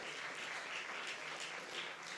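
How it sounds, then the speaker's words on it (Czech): Audience applause at an awards ceremony for the Pardubický kraťas competition, a dense, even clapping that carries on without a break and sits fairly soft and a little distant. "panu Pemlovi, Klokočníkovi a Trnkovi, zatleskejte jim, byli skvělí, že tu celou dobu museli vedle mě stát."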